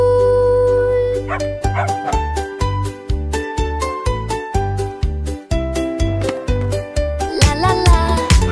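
Puppies in a fast, cheerful French children's song bark and yip in a steady rhythmic pattern over loud musical backing, the barks repeating on the beat for the whole stretch.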